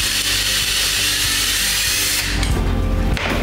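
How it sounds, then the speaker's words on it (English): A drill bit enlarges a hole so that a chopstick end will fit, giving a steady whirring grind that fills the whole stretch, loud and close, then changes tone near the end as the bit cuts through. "take a drill bit about the same size as the chopstick, drill out that hole a bit larger"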